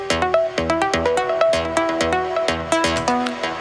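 A music track run through a Decapitator saturation plugin set for a thin tone, with a rapid, steady beat of punchy hits under a bright, buzzy melody. It plays continuously and loud, with no voices.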